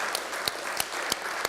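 Audience applause at a spiritual talk, a steady wash of clapping with a few sharper claps standing out, continuous and fairly full throughout.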